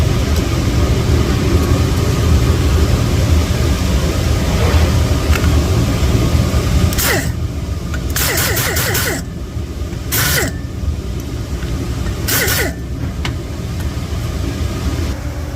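Valve seats being ground on a Honda D16 cylinder head, with a loud steady whirring grind that runs throughout and a few sharp bursts of higher grinding toward the end, close by.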